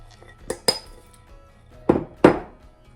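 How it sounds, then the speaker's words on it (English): Dry ingredients for gluten-free focaccia going into a bowl in a kitchen: a few sharp clinks and knocks of utensils against the bowl, close by, in two pairs separated by a short pause. "Let's add our dry ingredients."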